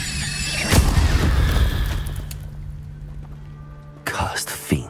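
Incendio fire spell in Hogwarts Legacy, a sharp booming burst with a fiery whoosh that decays over a couple of seconds, followed by another shorter burst and a thump near the end.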